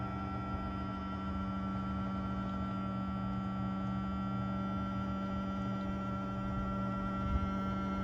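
A small motor on a speed controller drives a gold finisher prototype, giving a steady, even electric hum with a constant tonal whine that holds at one level throughout.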